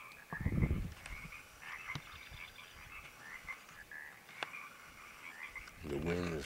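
A frog croaks in brief bursts outdoors amid wind noise, faint and somewhat distant, with a voice speaking at the start and near the end.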